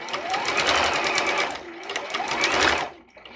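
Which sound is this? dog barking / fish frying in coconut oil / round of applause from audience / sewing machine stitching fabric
sewing machine stitching fabric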